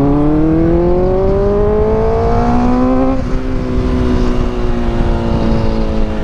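A Kawasaki Ninja ZX-4RR motorcycle accelerates, its high-pitched engine climbing steadily, dipping briefly at a gear change near the midpoint, then rising again, loud and close, with no talk.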